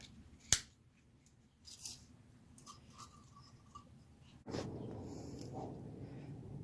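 A knife cuts through cardboard for a toy racetrack, giving scattered faint scraping and tearing sounds and a sharp snap, then a louder steady rasping stretch near the end, close and quiet with no talking.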